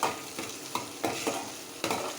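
Onions sizzling in hot oil, with a few soft scraping stirs punctuating the steady frying hiss.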